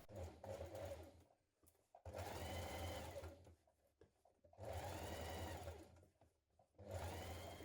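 Domestic sewing machine understitching close to a seam on the inside of a neck facing for a cuff top, running in four steady bursts with short pauses between, close and loud with no talking.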